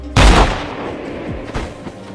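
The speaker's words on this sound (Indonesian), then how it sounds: "driver pun menembaknya." A single loud, sharp gunshot from an action film cracks close up and rings out into a brief decaying tail with faint rumbling after.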